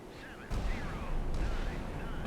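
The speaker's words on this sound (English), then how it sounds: "The gunfire of this time, for sure, really deadly." Naval gunfire in the Sea Power video game, Cold War Baltic warships engaging targets, with sharp booming shots followed by a continuous rumbling roar of firing, loud and close.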